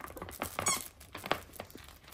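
Squeaky toy played with by standard poodles, giving a couple of short, high squeaks at moderate distance amid faint room noise, with no talking.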